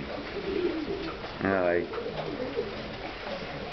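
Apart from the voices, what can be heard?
pigeon cooing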